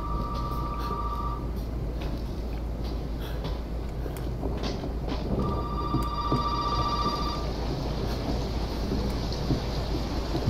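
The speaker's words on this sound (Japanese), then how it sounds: "電話が鳴ってる。" Telephone in Resident Evil 7 rings in two clear bursts, one short at the start and a longer ring midway, over a low rumbling ambient drone with no talk.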